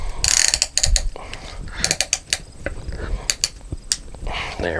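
A ratchet clicks in quick irregular bursts of close, sharp pawl ticks as it tightens a piston ring compressor around an engine piston during a 444 engine rebuild.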